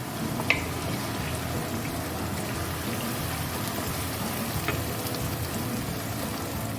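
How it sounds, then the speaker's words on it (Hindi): Onions sautéing in a pan for beef koftay, a steady soft sizzle and crackle throughout with a couple of faint pops, fairly quiet and without talk. "प्याज को थोड़ा सा हम सौते करेंगे रंग आने तक"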